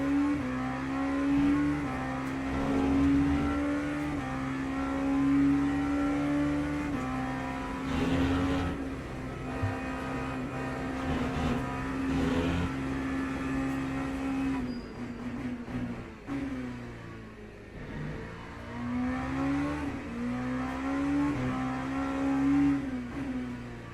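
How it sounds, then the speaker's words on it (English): An ELMS LMP2 prototype race car laps Silverstone, its engine droning loudly and continuously with rising and falling pitch through gear changes and corners, heard alone without talk. "these ELMS LMP2s don't really ever get to stretch their legs"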